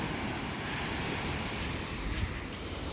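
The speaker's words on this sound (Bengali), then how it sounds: "ও সমুদ্রের গর্জন শুনতে পাচ্ছ?" Ocean surf rolling onto an untouched beach of pebbles and shells, a steady broadband roar of breaking waves with wind buffeting the microphone, continuous and fairly close throughout.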